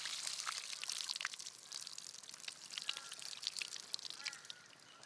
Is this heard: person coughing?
no